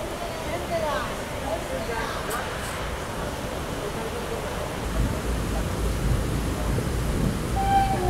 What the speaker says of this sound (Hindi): और क्या ख़तरनाक बारिश हो रही है।